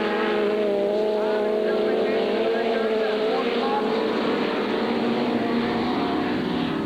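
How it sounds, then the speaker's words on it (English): Engines of racing cars, among them a V8-powered Datsun, drone steadily and loudly throughout, with shifting pitch as they run the circuit and a commentator's voice over the top. "The V8 powered Datsun of C Treble 8 in the lead at the moment, going extremely well."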